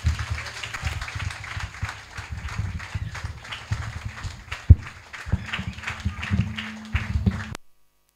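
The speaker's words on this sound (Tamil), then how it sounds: "நல்ல உற்சாகமாக கரங்களை தட்டுவோம்." Congregation at a church anniversary dedication service claps hands in a rapid, uneven patter of many palms, moderately loud and close, continuing for several seconds before cutting off abruptly.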